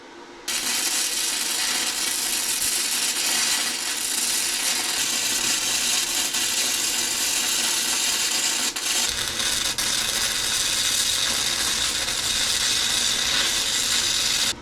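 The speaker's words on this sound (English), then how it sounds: "I'm really liking how smooth this thing welds. The inverter technology is pretty cool. It's not spitting, it's not sputtering." A budget inverter welder lays a bead, giving a steady, smooth, even crackling hiss that runs continuously and fairly quietly, close by, without spitting or sputtering and with no talk.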